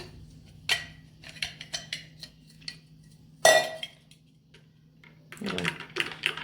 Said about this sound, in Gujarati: બરફના ટુકડા નાખી દઈશું